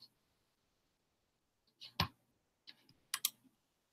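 A handful of sharp, quiet computer mouse clicks come in small clusters in a near-silent room, a single click followed by quick pairs a moment apart.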